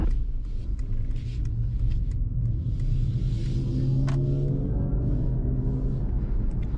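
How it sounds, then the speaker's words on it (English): A 2024 Mercedes-AMG C63 S accelerates in electric-only mode, giving a steady low cabin rumble and road noise that hold throughout, with a faint rising electric whine and no engine roar. "so that was acceleration actually in electric only."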